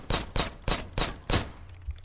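Five loud, evenly spaced gunshots ring out in the zombie survival video game State of Decay, each a sharp blast with a short decay, and a quieter thump follows.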